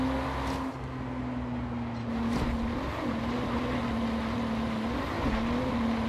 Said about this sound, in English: the car does sound nice, but it's not meant for this type of racing